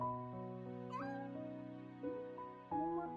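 A cat meows close by in a few drawn-out, tonal cries, with a higher squeaky note partway through.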